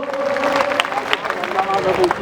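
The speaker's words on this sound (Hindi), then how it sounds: "मैं चाहूंगा हमारे इन दोनों कलाकारों के लिए, बड़े भाई के लिए जोरदार तालियां स्वागत करिए दोस्तों" Audience applause and crowd noise welcoming two Bhojpuri stage actors, a steady close wash of clapping mixed with babble and a voice heard over it.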